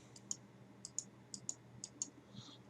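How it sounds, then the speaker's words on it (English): Quiet, crisp plastic button presses on a TI-84 graphing calculator, about nine small clicks, often in quick pairs, tapped out in an otherwise near-silent room. "We will now input the equation into the TI-84 calculator."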